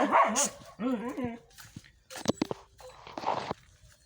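Dogs bark and yip in short bursts, some whimpering, with scuffling and a few sharp knocks, moderately close.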